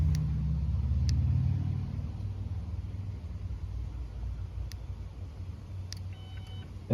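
A car started by a remote starter with a chipped-key bypass module and no key in the ignition cranks and catches, settling into a steady low idle rumble with a few faint beeps.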